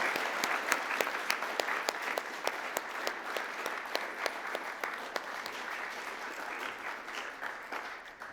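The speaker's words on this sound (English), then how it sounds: "a round of applause for the team" A room full of people applauds steadily, a dense patter of clapping heard from a short distance, with no voices on top.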